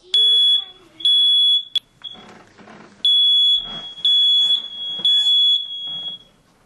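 A household smoke alarm gives piercing high-pitched beeps in a quiet house, sounding in loud repeated bursts of about half a second each, with faint rustling between the bursts.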